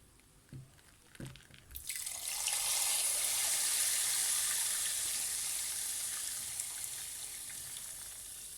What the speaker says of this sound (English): I added some water into the pan to make sure everything is in.